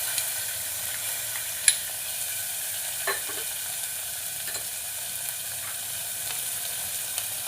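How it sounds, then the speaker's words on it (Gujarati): Chopped tomatoes and onions going into cumin tadka frying in hot oil for a green peas dal, a steady soft sizzle with a few quiet scrapes and clinks of a spoon against the pan. "હવે આપણે એની અંદર નાખીશું ઝીણા સમારેલા ટામેટાં, ઝીણા સમારેલા કાંદા"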